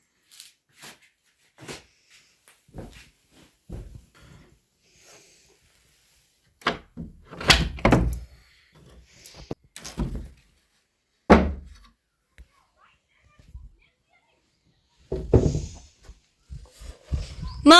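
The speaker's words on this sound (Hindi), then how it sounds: "मुझे शॉर्टकट से जाना पड़ेगा ये विंडो खोल के" Window being opened in a village home, a series of wooden thunks, knocks and rattles at close range, scattered across the clip with quiet gaps between.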